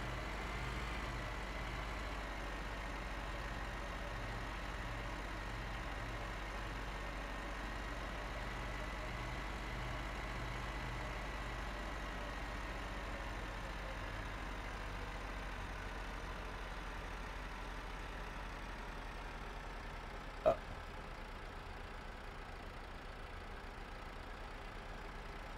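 A tractor engine in Farming Simulator 15 idles and drones at a steady low pitch, quiet and unchanging for the whole stretch, with one brief sharp click near the end.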